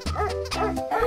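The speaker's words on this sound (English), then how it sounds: "dog," A cartoon dog gives a few short, close yipping barks in quick succession over light background music in a children's animal painting game.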